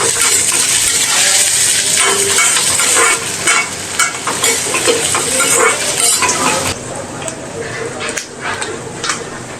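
A spatula scrapes and clinks against a pan as egg bhurji is stirred. The frying hiss is loud and close, the metal knocks come irregularly, and the clatter eases slightly toward the end.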